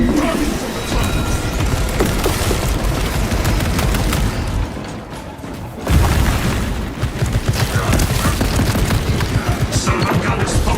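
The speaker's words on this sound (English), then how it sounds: "Set my dead tunnels ablaze with melter charges!" Melta charges detonating in Warhammer 40K Space Marine 2, a dense, continuous rumble of heavy booms and crashing blasts with a sharp surge near the middle, over steady battle noise with voices mixed in.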